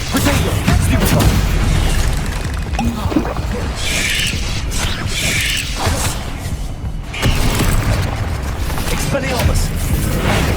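Confringo spell blasts and explosions in Hogwarts Legacy, loud continuous booming and crashing with rumbling impacts and bursts throughout, dense and close, with a voice shouting over the action.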